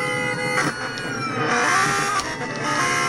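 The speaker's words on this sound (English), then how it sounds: "let's go and rev it first" A Lamborghini Gallardo in the Roblox game Greenville, set to manual, revs its engine in a loud, steady, sustained drone that swells slightly partway through.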